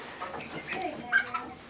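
Several chickens cluck close by in a small flock of eight, a quick series of short, uneven clucks over about two seconds.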